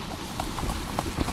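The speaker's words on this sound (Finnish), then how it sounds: "Tämä on minun hieno hevonen vielä hyvästä kuvakulmasta" Hooves of a horse pulling a cart clip-clopping at a steady walking rhythm, several distinct hoofbeats nearby over a low rumbling background.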